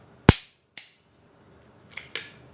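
A Smith & Wesson M10 revolver is dry-fired in double and single action: a sharp metallic snap, a softer click, then two more quick clicks, close and isolated in silence.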